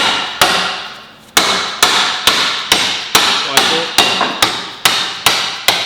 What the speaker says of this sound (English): before you hammer the dimple